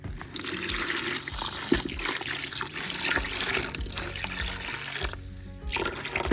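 Water is scooped and poured to soak hay cubes on a homestead, with a steady, close splashing and trickling that continues throughout and dips briefly near the end.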